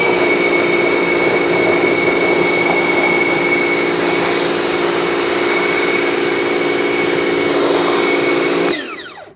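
A pressure washer sprays a Rover 75 car with a loud, steady hiss of water over a humming motor. The noise holds evenly for several seconds, then cuts off abruptly near the end.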